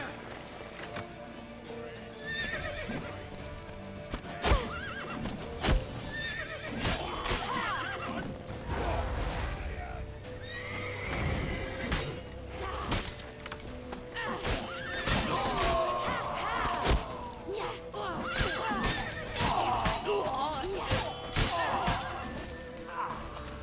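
Horses in The Witcher 3 neigh and whinny repeatedly amid galloping hooves, crashes and thuds during a chaotic chase through a town, with shouted voices mixed in throughout.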